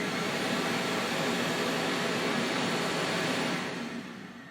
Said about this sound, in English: So let me get started first with the rigid portable shop vac.